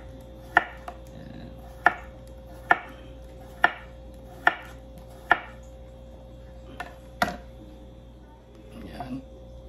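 A knife chops peeled cucumber on a cutting board in steady, evenly spaced sharp thuds, about seven close strokes, with a brief spoken word near the end.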